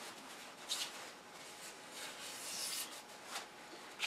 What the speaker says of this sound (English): I'm going to wipe that down a little bit with a piece of kitchen towel